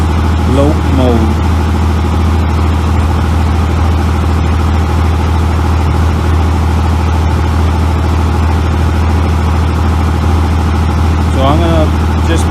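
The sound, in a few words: 24 valve Cummins diesel engine loping in gear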